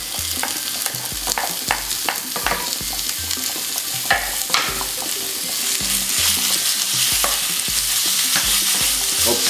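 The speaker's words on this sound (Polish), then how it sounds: "Smażamy go szybko. Patelnia jest bardzo gorąca." Loud, continuous sizzling of marinated chicken frying in a very hot pan, with occasional stirring scrapes and crackles, no voices.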